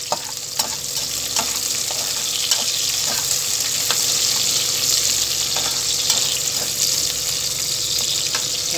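Medium-size onions and two green chillies fry in a pan for a fish curry. A steady, fairly loud sizzle runs throughout, with scattered sharp ticks and clinks of stirring and no talking.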